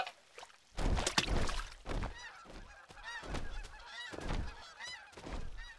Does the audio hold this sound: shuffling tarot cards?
no